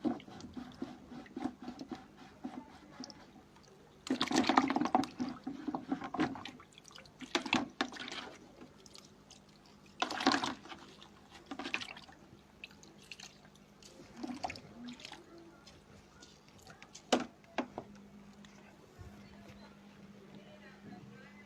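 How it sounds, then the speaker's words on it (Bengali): A paintbrush is rinsed in water, with irregular splashes, swishes and drips close at hand against a quiet room with faint background hum. "ব্রাশটা ধুয়ে নিচ্ছি।"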